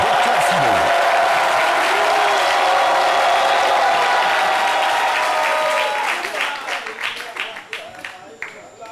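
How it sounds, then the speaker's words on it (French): Dense, loud applause from a studio audience greeting a comedian on a French comedy show, steady for about six seconds and then thinning into scattered claps as voices begin underneath. "sous vos applaudissements"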